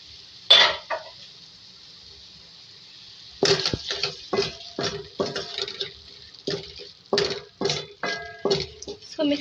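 Roasted cumin seeds and coriander are ground by hand, making a run of irregular, close, scraping and clattering strokes after an opening knock, with no talk.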